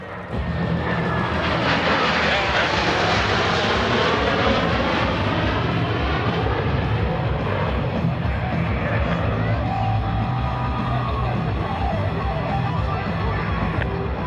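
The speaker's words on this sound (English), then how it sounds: "Blue Angels are approaching the flight line at 400 miles per hour" US Navy Blue Angels jets roar in toward the flight line at 400 miles per hour at the 2017 Millville Wheels and Wings Airshow, a loud, sustained engine rush with a faint crowd murmuring beneath.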